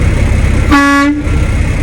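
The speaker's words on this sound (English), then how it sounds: "Air horn is properly working." A single loud truck air horn blast cuts in for about half a second over a constant idling engine rumble in the cab.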